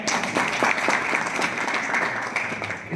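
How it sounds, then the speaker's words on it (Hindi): A gathered crowd claps together in a brief burst of applause, individual claps audible within the dense wash. "सुनाई पड़ा तो ताली बजाओ भाई"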